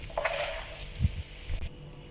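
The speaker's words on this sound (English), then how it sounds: "Let this fry until the vermicelli starts to brown." Soft, steady frying sizzle of dry vermicelli in a pan with faint crackles and a few low thumps of stirring, close and fairly quiet.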